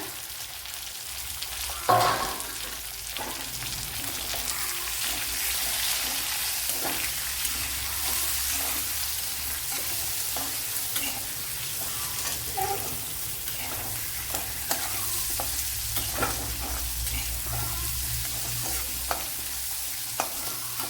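Thinly sliced large onion sizzling in a small amount of hot oil while making chicken fry, a steady frying hiss with occasional stirring clicks and scrapes throughout, one louder knock near the start.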